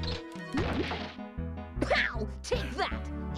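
Punch impacts in the Tail Concerto video game land as several loud thwacks at irregular intervals, set against a steady backdrop of game music.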